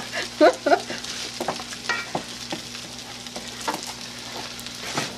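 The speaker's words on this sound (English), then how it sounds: "we've got them thoroughly mixed and we're still mixing them in here" Fried rice sizzles steadily in a hot pan while a utensil stirs and scrapes through it, with soft clinks and scuffs over the constant frying hiss.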